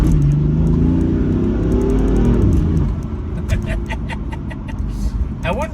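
A BMW F82 engine revs loudly and close, its tone rising and falling for a few seconds, then drops back to a lower rumble with scattered clicks.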